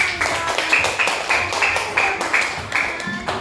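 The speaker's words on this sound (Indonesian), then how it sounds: "silakan dari tepuk tangan untuk kelompok" Students in a classroom clap for a group in a steady, rhythmic unison beat, close and fairly loud, with faint voices underneath.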